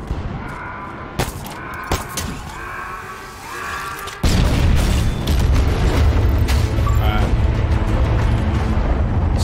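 A deep, booming blast erupts midway in Halo Infinite, followed by sustained rumbling roar and crackling debris after a brief stretch of quieter game sounds.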